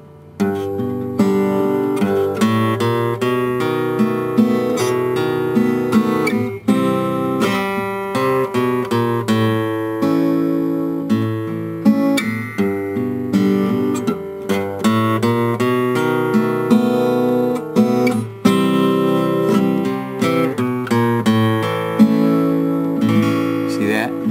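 Steady guitar strumming with sustained chords and a continuous rhythmic pulse, fairly loud and close, with no voices.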